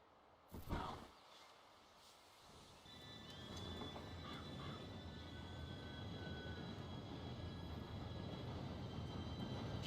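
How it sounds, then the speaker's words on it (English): A train approaches in the Wild West video game Red Dead, a faint distant rumble that grows steadily louder with thin metallic squeals of wheels on rails, after a short sharp knock near the start. "Train should be here any minute."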